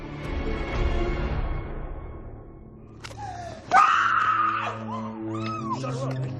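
A woman screams loudly while being held in a chokehold and injected with a sedative during a kidnapping; a sharp, wavering cry rises abruptly midway over a low rumbling background and keeps sliding in pitch.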